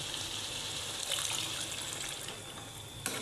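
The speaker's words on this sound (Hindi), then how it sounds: "अब हम इसके अंदर पानी ऐड करेंगे" Water poured from a glass into a pan of frying potatoes and peas for aloo matar, a steady gushing, splashing pour with sizzle that swells midway and cuts off near the end.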